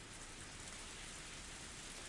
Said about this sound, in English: Even the sound of the engine faded into the sound of the heavy rain